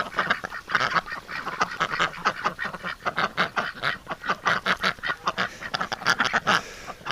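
Several winter ducks quack and nibble busily up close, a dense stream of rapid overlapping quacks and pecking snaps with no pauses.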